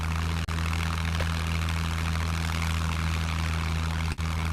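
Steady loud droning hum of a propeller plane engine in the Scum video game, continuous throughout with a strong low tonal buzz and two brief dropouts.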